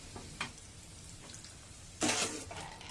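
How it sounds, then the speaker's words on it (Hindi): Raisins frying in desi ghee in a pan give a soft continuous sizzle with light scraping taps, then a louder burst of sizzling near the end. "ऐसे ही मैं सारी किशमिश फ्राई कर लूंगी।"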